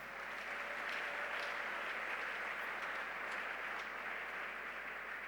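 A church congregation applauds and cheers in praise of the Lord, a steady, dense wash of clapping that holds unbroken for the whole stretch at moderate level.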